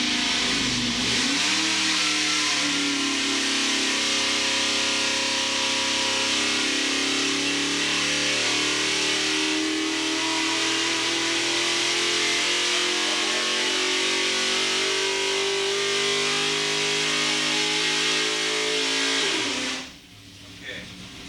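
Supercharged, intercooled car engine running at the Bonneville Salt Flats, a loud sustained drone that climbs steadily in pitch for most of its length, then cuts off sharply near the end.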